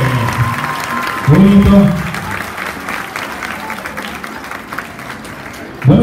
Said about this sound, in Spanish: El aplauso fuerte para ellos, que se escuche